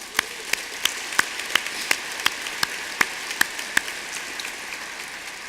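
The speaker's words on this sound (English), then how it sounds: "Let's give them a round of applause." Sparse applause at a Marine Corps Heritage Foundation awards dinner: a slow, evenly spaced run of single claps stands out over a quiet room and thins toward the end.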